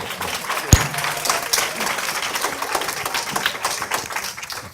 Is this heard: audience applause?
yes